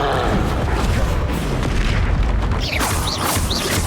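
Dense, continuous blasting from the Confringo fire spell in Hogwarts Legacy: a loud, sustained roar of booms and crackling with whooshing streaks near the end, no speech heard.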